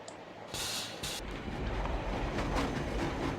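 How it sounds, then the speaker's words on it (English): A train approaches with a low rumbling roar and a clattering rhythm that builds steadily in loudness, with a couple of brief hissing bursts early on. "There's a train coming."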